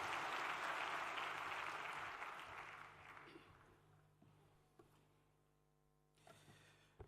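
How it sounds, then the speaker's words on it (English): Audience at a graduation ceremony in Kasarani, Nairobi County, applauding: a faint, dense round of clapping that gradually tapers off over several seconds, leaving sparse claps. "Let's give him a clap as he approaches the stage."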